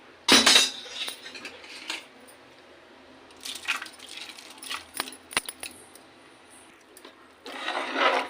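Soaked, washed rice goes into a pot of boiling water for chicken biryani, with a splash at the start. Then come scattered clinks and scrapes of stirring, and a second wet rush near the end.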